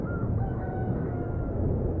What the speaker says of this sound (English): As a cockerel crowed to signal dawn on the Spanish island of La Palma